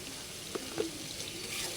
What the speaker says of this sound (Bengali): পরিমাণ মতো হলুদের গুঁড়া দিয়ে ভালো করে নেড়ে ছেড়ে নেব